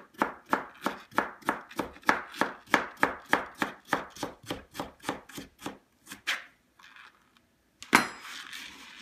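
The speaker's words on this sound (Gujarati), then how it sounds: "આને આપણે ફાઇન રીતે એને નાના નાના પીસીસ કરી અને કાપી નાખશું" A knife finely chops vegetables for a corn and bean salad, giving a fast, even run of about twenty crisp board-hitting chops close by, then a pause and a couple of scattered knocks.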